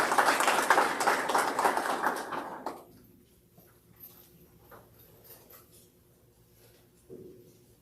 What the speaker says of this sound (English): we just give these students a round of applause for their hard work and dedication.